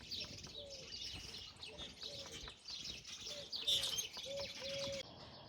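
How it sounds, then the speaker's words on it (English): Mourning doves coo softly in a spring garden, a series of low repeated notes under busier chirping from other birds, distant and fairly faint throughout. "We do have an abundance of mourning doves too, as you can hear them in the background."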